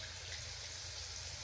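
Water runs steadily from a faucet during handwashing, a soft, continuous hissing rush with no breaks and no voices.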